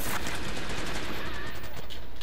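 Rapid bursts of video game gunfire like a Fortnite weapon crackle steadily, fairly loud and dense, with a voice talking faintly now and then underneath.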